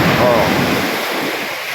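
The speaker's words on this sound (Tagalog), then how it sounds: "Malalaki ang alon na yan." Big ocean waves crash and roar in steady, loud surf noise with gusts of wind buffeting the microphone, and a voice briefly speaks over it.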